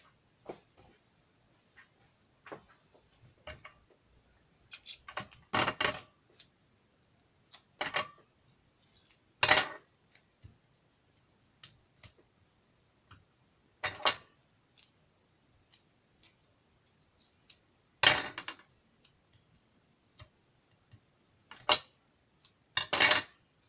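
Scissors snip through craft foam while making a card at a tabletop, giving sparse, sharp clicking cuts in irregular short bursts separated by quiet pauses, close and fairly faint.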